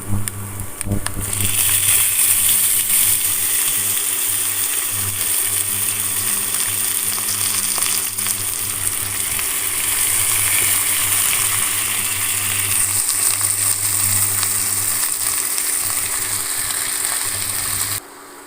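Steady, loud sizzling of thinly sliced skin-on young potatoes frying in a hot pan, a continuous crackling hiss with no pauses.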